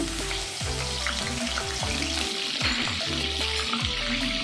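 A spoonful of ginger garlic paste frying in hot oil for spicy chicken pulusu, a steady close sizzle with crackling pops over a repeating low background hum, no talk.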